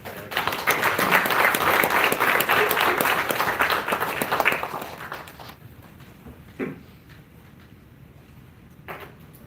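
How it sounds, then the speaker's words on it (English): An audience at a Wilson County commission meeting claps in a dense round of applause that fades out after about five seconds, followed by a few scattered claps and room noise. "About a round of applause, please."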